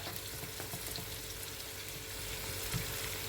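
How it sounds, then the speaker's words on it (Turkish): Potatoes sizzle and crackle steadily as they fry in butter, a continuous close hiss with no voices. "şöyle kavruklandı arkadaşlar tereyağda"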